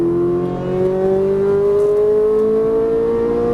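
Ferrari 458 Italia V8 on a track at full throttle, a loud close engine howl climbing steadily in pitch with no break and no talk over it.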